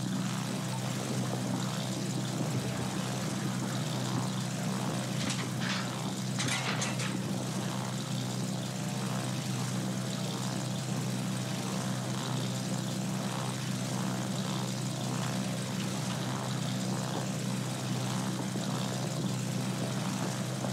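Propeller fighter planes launching off a carrier in the naval battle game World of Warships, a steady engine drone rising briefly and lingering throughout under a constant low background hum, with no talk.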